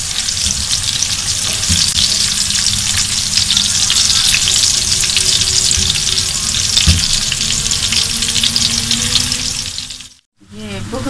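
Mince-stuffed bitter gourds fry over slow heat in a steady, close hiss of sizzling oil that runs almost unbroken, with faint clinks and a brief drop to near silence near the end.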